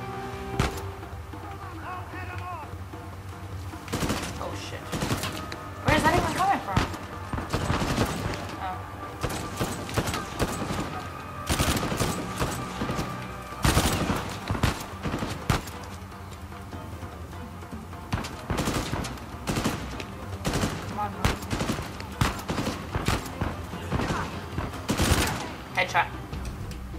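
Repeated bursts of gunfire from the video game Uncharted 4 crack out in sharp volleys and rapid machine-gun strings throughout, with a person talking over the action at times.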